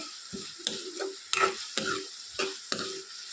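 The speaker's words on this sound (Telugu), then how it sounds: "ఉల్లిపాయలు వేసుకున్నాం కదా దీంట్లోనే కొంచెం చింతపండు వేసేసుకోవాలి" Onions and tamarind fry in oil in a pan, a bright sizzle broken by several sharp, rhythmic spatula scrapes and taps, close and clear with no talk.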